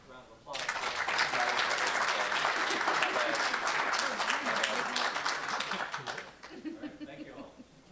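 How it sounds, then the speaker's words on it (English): Audience at a sustainability summit breaks into a round of applause, dense clapping swelling in abruptly, holding steady for several seconds, then tapering off as a few voices and light laughter come through. "Let's give one more round of applause"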